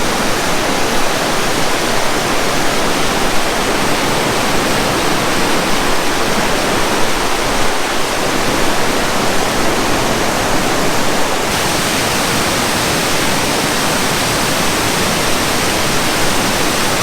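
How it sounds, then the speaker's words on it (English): Waterfalls pouring over rocks by the Sand River along Lake Superior, a loud, constant broadband rush of falling water with no pauses and no voices. "Beautiful waterfalls on those rocks."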